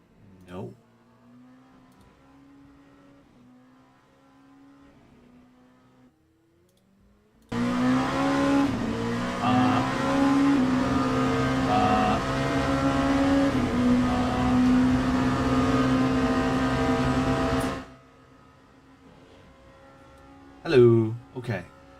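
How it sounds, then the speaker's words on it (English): Race car engines rev and roar from a racing broadcast, a dense, loud engine wash lasting about ten seconds, with quieter background sound before and after. "can you hear the car sounds?"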